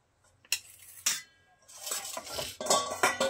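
Freshly made homemade pasta is tipped into a metal sieve to drain. Two sharp metallic clanks are followed by rattling, clinking and scraping that grows busier toward the end.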